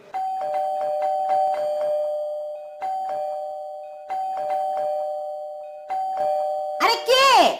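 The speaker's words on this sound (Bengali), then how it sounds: "একটু এত কলিং বেল দিতে হয় নাকি?" A doorbell chimes repeatedly in a domestic setting, several bursts of ringing tones separated by short pauses, followed by a person's voice at the end.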